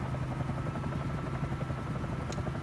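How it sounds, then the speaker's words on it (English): A helicopter in a flight simulator game cruises over New York City, its steady rotor and engine drone holding a constant low hum throughout, with a brief faint higher whine near the end and no talking. "cities like this could be really interesting in helicopters in the sim"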